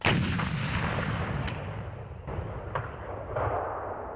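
A powerful blast from a Rapira smoothbore artillery gun opens with a sharp boom, then a long rolling echo that slowly fades, with a few faint distant cracks.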